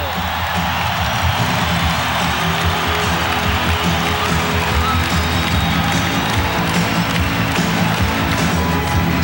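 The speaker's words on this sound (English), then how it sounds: "Listen to the crowd at Memorial" Basketball crowd at Memorial Coliseum during a Bulls vs Blazers game, a dense, steady roar of cheering that stays loud and unbroken throughout, with no break in the noise.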